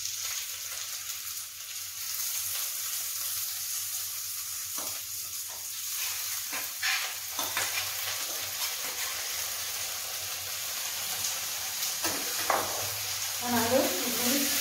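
Rice fries in ghee with garam masala, cashews and raisins for basanti polao, giving a steady, close sizzling hiss with occasional stirring scrapes that pick up toward the end.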